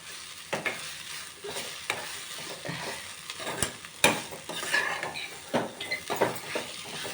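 Amaranth leaf curry cooking in oil in a pan, giving a steady low sizzle broken by repeated scraping stir strokes and occasional sharp utensil clicks, heard up close with no voices.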